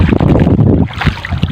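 Easterly wind buffets the microphone at sea aboard a fishing boat in the early-morning dark, a loud, gusting rumble that swells and dips unevenly, with water and hull noise mixed beneath it.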